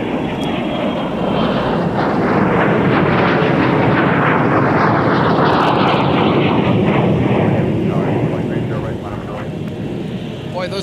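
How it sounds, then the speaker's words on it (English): A business jet takes off at Minneapolis–St. Paul airport in winter, its engine roar loud and sustained, with a broad whine that sweeps as it passes and then fades slightly near the end. "those biz jets have been noisy this morning"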